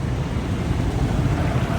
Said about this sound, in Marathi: खूपच पाऊस आलेला आहे इकडे.